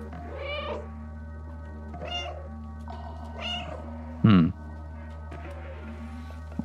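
A cat meows in the video game Stray, several soft meows spaced out over a steady low game hum, then one louder, sharper meow near the end.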